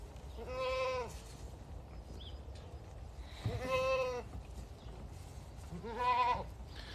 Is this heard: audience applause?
no